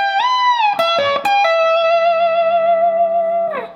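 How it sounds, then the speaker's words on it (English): Electric guitar playing a solo lick: a few quick picked notes, then a single sustained note pushed up in a wide super bend and held ringing, distorted, loud and close, releasing at the end. "he's utilizing one of his most iconic tricks, the super bend"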